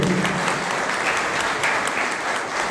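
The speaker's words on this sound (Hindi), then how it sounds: "तालियां बजनी चाहिए" Loud, steady applause from a crowd at a seed traders' gathering welcoming a guest with a garland, continuous dense clapping without speech.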